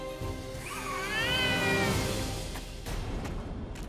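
A cat meows in a drawn-out, wavering call that rises and falls over a couple of seconds, close and fairly loud against steady background noise in a Tenali Rama period drama scene.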